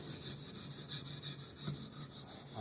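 Husqvarna hatchet edge being worked on a Norton Crystalon sharpening stone, a steady rhythmic rasping of steel stroked back and forth across the abrasive, fairly quiet and close with no talk.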